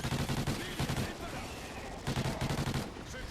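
Automated turrets fire in Call of Duty Ghosts Extinction, a dense run of rapid gunshots in two loud bursts with a brief lull between, packed with battle noise.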